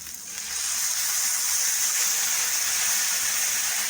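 Water poured into chicken mince frying in a pan makes a steady, loud hissing rush that swells quickly and holds evenly to the end, with no voices.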